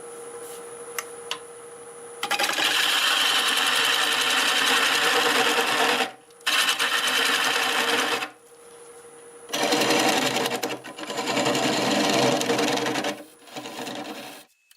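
Wood lathe turning a maple burl at about 700 RPM, heard as bursts of loud, rasping scraping as the tool cuts, broken by short pauses between passes, over the steady whir of the spinning machine.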